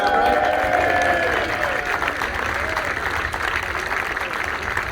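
A crowd at a football academy presentation day applauds an academy player, a steady wash of clapping with some cheering that eases slightly as a voice talks over it.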